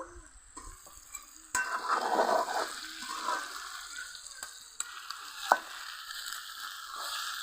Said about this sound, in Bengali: এখন ভেজে রাখা মাছের মাথাটাও দিয়ে দিব